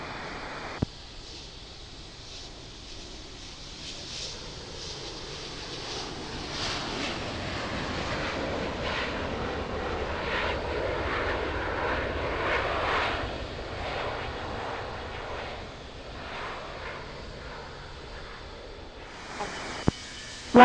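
An airplane at Salt Lake City Airport passes with a broad jet-engine roar that swells to a peak midway and then slowly fades, distant to moderately near, under steady wind hiss.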